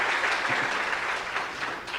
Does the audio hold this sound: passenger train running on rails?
no